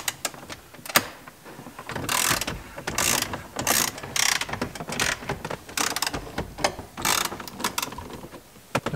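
A ratchet backs out 10 mm bolts from a Toyota Camry radio assembly: bursts of quick, close clicking in short uneven runs with brief pauses between, fairly quiet and free of talk.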